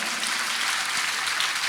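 Audience clapping during a Hindi religious discourse by a national saint, a steady, dense wash of applause that holds evenly throughout without a break.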